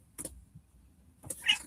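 A pet cat gives a single short meow near the end, close and fairly quiet, after a brief rustle at the start and a soft, near-silent pause.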